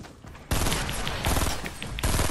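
Loud automatic gunfire in the video game Fortnite bursts in suddenly and rattles on in rapid dense shots, with a second burst near the end.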